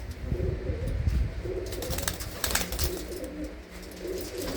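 Low, soft cooing from a female pigeon in Tangra village near Amritsar repeats steadily over a muffled, rumbling background, with no voices present.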